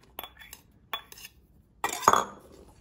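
Julienned onions being tossed and mixed in a bowl, a few separate clinks and scrapes of a utensil against the dish followed by a louder burst of clattering, close and quiet, with no talking.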